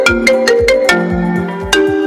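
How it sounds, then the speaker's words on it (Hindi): A phone ringtone plays loudly and close, a repeating electronic melody of bright, evenly spaced notes heard alone with no talk. "मेरे ऑफिस से बॉस का फोन आ रहा है"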